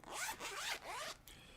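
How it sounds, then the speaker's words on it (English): A clothing-style zipper is pulled open in three quick strokes, close and fairly quiet, followed by a softer rustle, with no voices. "The zipper."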